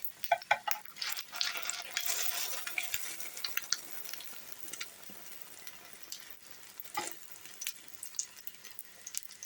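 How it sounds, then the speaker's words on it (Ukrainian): Meat patties frying in oil over low heat, sizzling and crackling in a pan with occasional stirring scrapes and clinks, steady and close throughout. "Смажимо на невеликому вогні, щоб гарно просмажився фарш, щоб не був сирим."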